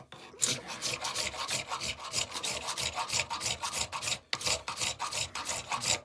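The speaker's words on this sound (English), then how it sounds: "a bit more hand filing." Hand filing on the metal of an infill block plane: rapid, rhythmic rasping strokes, close and fairly loud, with a brief pause around the four-second mark before the strokes resume.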